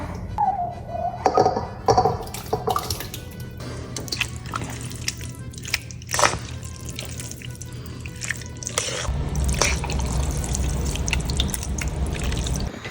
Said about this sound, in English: Just like going to attempt to pour that into our pasta